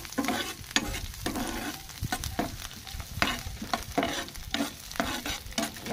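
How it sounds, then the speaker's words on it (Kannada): Onions frying in a pan and being stirred, with a steady crackling sizzle and repeated scraping strokes of the spoon against the pan, close and continuous for six seconds, no talking. "ಉಳ್ಳಾಗಡ್ಡಿ ಸ್ವಲ್ಪ ಲೈಟಾಗಿ ಹುರ್ಕೋಬೇಕ್ರಿ"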